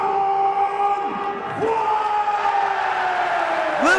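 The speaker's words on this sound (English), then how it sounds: "Listen to that crowd." Arena crowd before a Ken Shamrock versus Don Frye MMA fight roars and whoops, a broad, loud, sustained swell of cheering with rising and falling shouts heard from within the venue.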